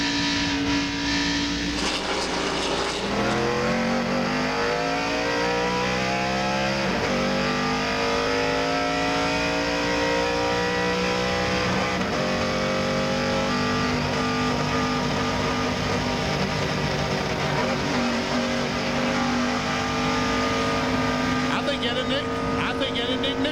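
A stock car in the 1998 Dura-Lube 200 Busch Grand National race at Darlington runs with a failing ignition box after a restart, its engine droning loud and continuous, pitch rising and falling as it misfires and revs, with race commentary over it.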